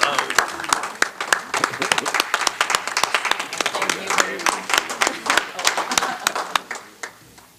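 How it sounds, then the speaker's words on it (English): Audience at a school board meeting applauding, a sustained round of clapping from a modest crowd in a meeting room that tapers off near the end. "Please join me in giving them a round of applause for this wonderful accomplishment."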